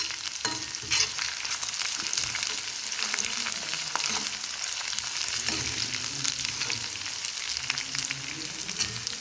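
Onions with ginger-garlic paste fry steadily in a pan for a potato curry, a continuous sizzle broken by scraping stirs and clinks, close and fairly loud, with no talking.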